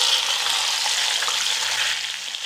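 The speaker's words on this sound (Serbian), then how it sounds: "Ulje se dobro zagrejalo i sada spuštam meso na vrelo ulje." Meat sizzles steadily in hot oil in a pot, a dense, even crackle and hiss holding at a constant level throughout, close and loud, with no voices.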